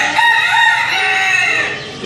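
A rooster at a zoo crows loudly and close by, one long strained call with a raspy, harmonic tone that holds steady before tapering off at the end.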